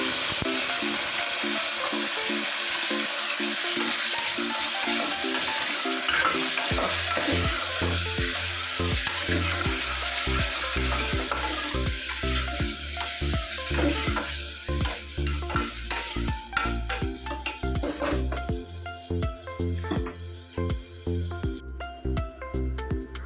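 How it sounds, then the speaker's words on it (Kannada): Chopped onion and tomato frying in oil in a pan for egg sambar, with a loud continuous sizzle at first, then rhythmic stirring strokes scraping the pan over the frying. "ಈ ಆಯಿಲ್ಗೆ ಹೆಚ್ಚಿಟ್ಕೊಂಡಿರೋಂಥ ಈರುಳ್ಳಿ ಮತ್ತು ಟೊಮೊಟೊನ ಹಾಕ್ಕೊತಾ ಇದ್ದೀನಿ. ಇವಾಗ ಇದನ್ನು ಚೆನ್ನಾಗಿ ಫ್ರೈ ಮಾಡ್ಕೊಬೇಕು."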